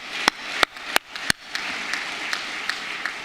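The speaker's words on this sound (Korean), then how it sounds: "하나님께 영광의 박수 드리겠습니다." Sparse hand claps ring out in a church at the close of an Easter worship service, a few sharp separate claps over the first second and a half, then a soft, diffuse patter of scattered clapping from the congregation.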